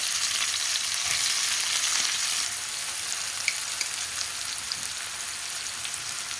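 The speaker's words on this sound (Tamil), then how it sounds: "கடுகு பொரிய ஆரம்பிச்சிருச்சு" Mustard seeds crackle and splutter in hot oil, a close, dense sizzle with scattered sharp pops that eases slightly partway through, with no voices.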